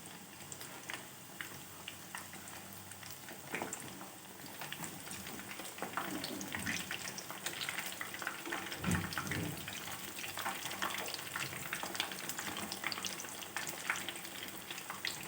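Chicken nuggets fry in hot oil with a dense, continuous crackling sizzle that grows slightly busier midway, close and steady with no talking.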